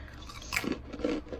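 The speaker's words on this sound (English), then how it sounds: "Now I'm going to try my little pretzel snack here." Someone chews a crunchy pretzel snack from an MRE close to the mic. A few crisp bites and crunches come in quick succession, with no talking.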